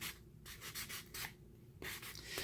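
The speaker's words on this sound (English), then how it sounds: "So you see I'm just sanding until I get as much of the black to show as I want on each cube." Repeated scratchy rubbing strokes of sandpaper on a painted wooden cube, close up, in short bursts with brief pauses between them.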